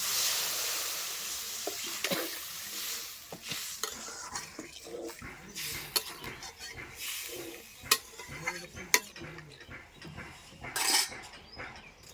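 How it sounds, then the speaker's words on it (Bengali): Water is added to chopped tomatoes cooking down in a pan for a small baim (eel) fish dish, with close clattering of a utensil against the pan and stirring, in scattered sharp knocks over a steady wet background. "এখন আমি দিয়ে দেবো জল।"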